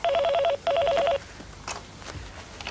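A telephone rings in two short electronic bursts separated by a brief gap, then the line falls quiet apart from faint background noise.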